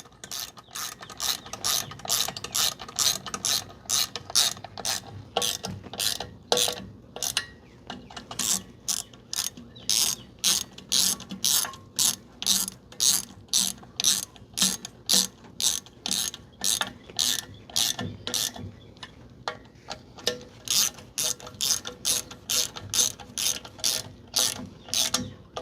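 A ratchet wrench tightens nuts onto the bolt threads of a front brake and locker swap on a vehicle named Ruby, with close, loud, rapid clicking in many repeated bursts and short pauses between strokes.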